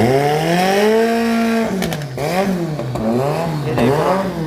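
Turbocharged drag car at a drag day, engine climbing in pitch, then snapping through rapid gear shifts with sharp pops, each shift dipping and rising again, loud and close.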